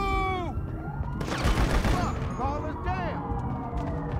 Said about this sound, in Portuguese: Os caras estão tudo de metralhadora.